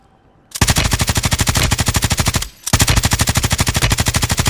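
Striker shotgun fire in a video game, two long loud bursts of rapid, evenly spaced shots close up, separated by a short pause, with no talking.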